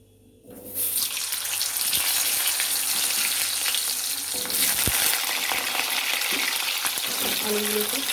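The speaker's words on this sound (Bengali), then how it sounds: "তেলটা গরম হয়ে গেছে, এবার এই তেলেতে আমি এই আলুগুলো ছেড়ে দেব।" Potatoes dropped into hot oil, where a quiet start bursts into a loud, dense, continuous frying hiss that stays steady, close and alone, with a couple of faint utensil knocks.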